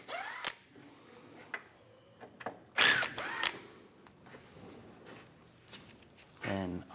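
A power driver with a T30 socket backs screws out of a 2015-2019 Lincoln MKC headlight, giving short whirring and ratcheting bursts amid clicks and handling noise, with brief speech at the end.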